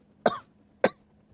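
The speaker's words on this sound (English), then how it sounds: "Sorry for coughing." Two sharp, close adult coughs about half a second apart, each brief and dry, over a faint steady background hum.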